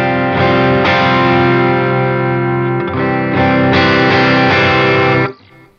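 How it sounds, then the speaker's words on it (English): Overdriven electric guitar on a Line 6 Helix, with a Tima overdrive (Timmy copy) stacked on a boost: several loud strummed chords that ring and sustain, playing alone and cutting off near the end. "So what I have next is the Tima overdrive, and I think that's just a copy of the Timmy."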